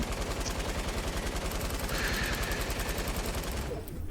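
Automatic gunfire sprays continuously in the Fortnite video game, a rapid, even rattle of shots that runs almost the entire time before stopping near the end.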